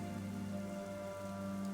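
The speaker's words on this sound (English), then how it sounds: "This is not ordinary rain." Steady rain falls and patters on surfaces in a mountain setting in the fantasy game AFK Journey, a dense, even hiss with no voices.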